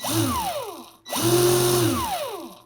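A Ryobi ONE+ cordless power tool with a brushed motor runs up in two bursts, each whirring to full speed and then winding down, close and loud with a brief pause between them.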